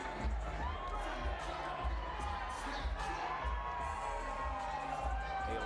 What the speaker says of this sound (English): A lively crowd here in the Motor City.